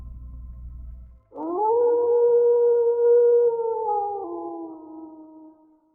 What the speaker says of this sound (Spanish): los aullidos de un lobo retumban por la ciudad